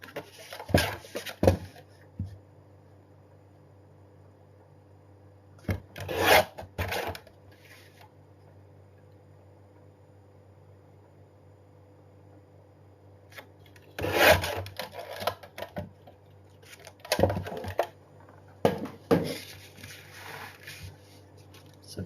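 Paper pieces being trimmed for a handmade mini album, a papercraft scrapbooking project: a few short, soft cutting and rubbing bursts scattered across a quiet room, with long near-silent gaps between them.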